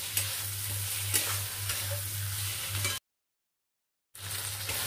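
Chopped tomatoes frying in spiced oil for a Bengali chhyachra with fish head make a constant sizzle with a few spoon scrapes over a low steady hum, cut off by a brief dead gap before resuming.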